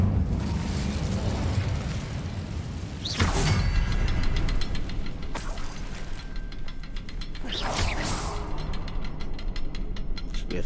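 Incendio fire spell cast in Hogwarts Legacy on PS5: bursts of roaring, crackling flame rise out of a dense, steady game soundscape, with sharp whooshing peaks near three, five and eight seconds.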